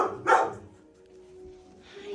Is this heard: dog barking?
yes